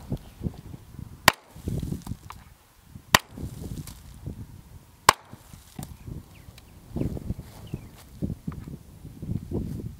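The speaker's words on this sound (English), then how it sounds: "Okay, now we're gonna go ahead and shoot through the pillow." Gunshots fired through a pillow outdoors: three sharp, short cracks spaced roughly two seconds apart stand out over a low background of rustling and shuffling, each one fairly loud but quickly gone.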